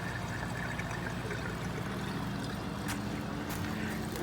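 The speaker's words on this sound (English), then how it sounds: "Yep, water's flowing again over here." Water runs steadily through an aquaponics system, a continuous low rushing and trickling flow that holds at an even level throughout, with no voices present.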